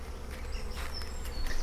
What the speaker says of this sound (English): Just listen to these bees.